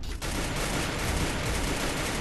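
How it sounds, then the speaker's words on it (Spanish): Video game gunfire, a dense, loud burst of rapid shots that rattles on without a break, alone with no talk over it. "¿Pero qué tiros ando pegando"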